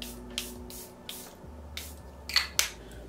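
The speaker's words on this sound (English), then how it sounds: "I'm actually just gonna set my face really quickly using the Charlotte Tilbury Airbrush Flawless Setting Spray" Several short hissing bursts of Charlotte Tilbury Airbrush Flawless Setting Spray misted onto a face, spaced irregularly, close and fairly quiet, with the last two bursts sharper and louder.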